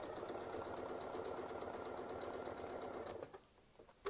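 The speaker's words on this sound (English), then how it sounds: "get ourselves lined up right on the other side, and do that tacking stitches, and then double stitch that all the way down" A sewing machine stitching a quilt block, a close, steady rapid whirring run that slows and stops near the end.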